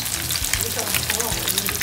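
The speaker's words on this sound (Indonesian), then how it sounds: "Terakhir kita goreng tahu dan tempe." Tofu and tempeh frying in a pan of hot oil for Indonesian pecel, a steady dense sizzle with crackling bubbles throughout, close and fairly loud, with no talking.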